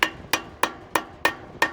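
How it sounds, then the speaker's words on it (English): A hammer taps a metal wheel bearing cap onto a car hub, six sharp metallic strikes at an even pace, close and loud with no talking. "I'm going to hit that on with the hammer"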